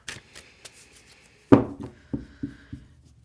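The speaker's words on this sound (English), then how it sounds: "One more shuffle." Tarot cards being shuffled by hand: a soft run of riffling rustles, then a sharper slap and several distinct taps as the deck is squared, fairly close and with no talking.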